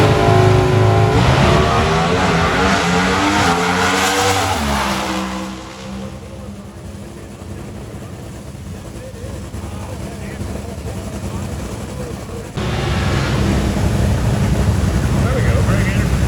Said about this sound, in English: Christian Caudra in the yellow machine, that's the Mustang. It is not easy to get off the starting line in front of him.